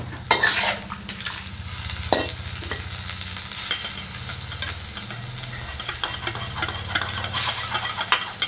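Seafood noodle gravy, thickened with starch, stirred briskly in a pan over high heat: steady scraping and bubbling sizzle with repeated utensil strokes, close and fairly loud, no voices.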